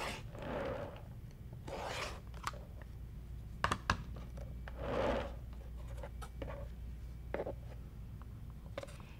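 Quilt fabric is trimmed around a square ruler: repeated soft rasping cutter strokes and rubbing scrapes come in separate bursts, with a few sharp taps of the ruler, close and fairly quiet.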